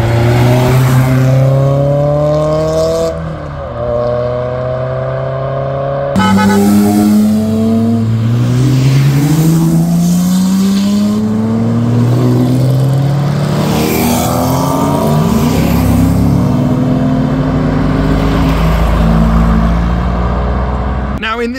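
Several cars, among them a turbocharged Renault Clio, drive past at a car meet with loud, continuous engine drone and rising, falling revs over the full stretch, while people talk over the traffic.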